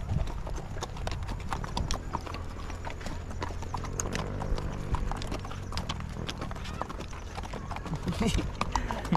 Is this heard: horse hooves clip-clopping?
yes